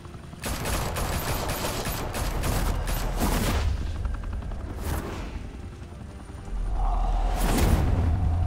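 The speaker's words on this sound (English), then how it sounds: "Open fire!" Henchmen open fire in Batman: The Telltale Series, a sustained burst of rapid gunfire with booming impacts and a whooshing swell near the end, loud and close, with no talk over it.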